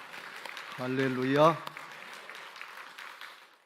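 A congregation claps in a Korean church service while a pastor calls out loudly over it; the applause stays a fairly soft, steady patter beneath and after the voice.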